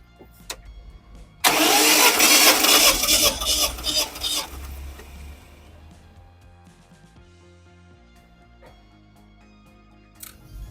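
BMW E30 with an M43 1.8 engine cranking over on the starter during a compression test, a loud rhythmic churning burst lasting about three seconds, then fading to a low idle-like hum with faint clicks.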